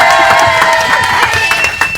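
A studio audience on a radio show applauds and cheers, a loud, busy mix of clapping and whooping crowd voices that stays strong throughout and eases slightly at the close.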